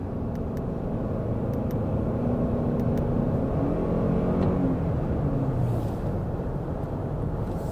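Toyota Highlander engine pulling while driving in race mode with a throttle response controller, heard from inside as a steady, fairly loud rumble with a rising engine tone and road noise, without talk.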